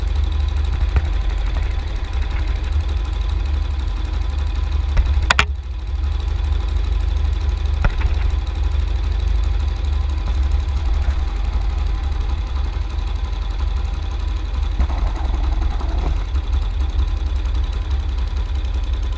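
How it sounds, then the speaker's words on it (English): A carbureted motorcycle engine idles steadily and close after an idle screw adjustment, its speed easing down slightly, with a few brief clicks and knocks over the continuous running. "Wait 5 seconds and you'll hear that the engine RPM is dropping."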